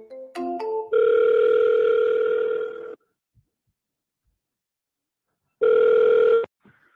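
An outgoing phone call: quick keypad dial tones, then a steady electronic ringback tone for about two seconds, silence, and a second ring starting before it is cut off, heard clearly and close.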